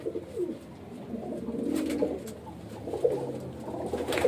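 Breeding-pair pigeons coo in a home loft, low throaty calls rising and falling continuously from several birds close by, with no voices.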